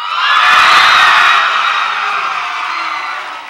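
High school audience at a faculty dancing contest cheers, whoops and shouts in a loud, dense burst that swells early, then gradually tapers off without settling into silence.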